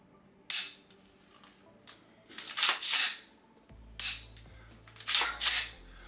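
Dry-fire clicks from a Daniel Defense M4A1 14.5-inch rifle trigger, several crisp metallic snaps and clacks in spaced pairs, close and clear in a quiet room with a faint hum.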